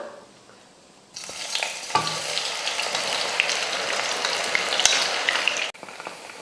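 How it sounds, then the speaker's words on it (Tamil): Soaked soya chunks drop into hot oil in a kadai and start deep frying. After a quiet start, a sudden loud, steady sizzle breaks out, with a few sharp crackles, then cuts off near the end. "இப்போ எண்ணெயும் நல்லா காஞ்சிருச்சு பொரிச்சு எடுத்துக்கலாம் இப்போ பொரிச்சுக்கலாம்"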